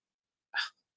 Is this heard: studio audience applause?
no